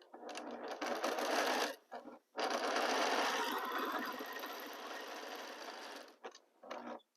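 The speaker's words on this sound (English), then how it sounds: "I align my fabric, and we are going to sew with 1/4 inch seam allowance." A sewing machine stitches quilt fabric pieces with a quarter-inch seam allowance: two long, loud, steady whirring runs separated by a brief pause, then a few short bursts of stitching at the end.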